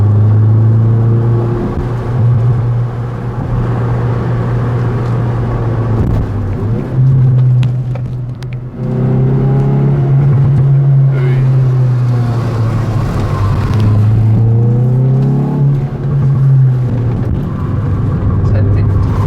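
A Hyundai i20N engine revs while driving: a loud, continuous in-cabin drone that repeatedly rises and falls in pitch as the car accelerates and shifts, with voices talking over it.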